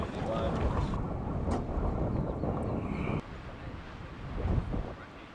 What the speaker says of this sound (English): A little bit breezy up here.